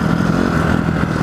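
Honda CRF enduro motorcycle running steadily, a loud continuous mid-pitched engine drone with a rattling, clattery texture and no pauses.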